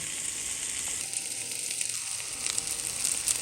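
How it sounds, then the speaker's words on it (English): A homemade sausage ring sizzling in a pan, a steady close crackling hiss with small pops throughout, no voices. "My sausage ring has been cooking about 2 minutes"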